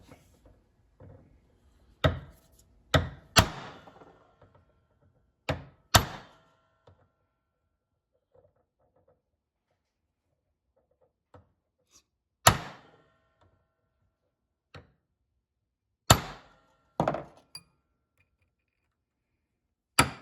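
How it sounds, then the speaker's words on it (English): A hammer peens a snowmobile chain pin inside the chaincase, giving sharp metallic strikes in irregular clusters of two or three with long quiet gaps between, close and loud. "So you just want to kind of peen the pin on either side."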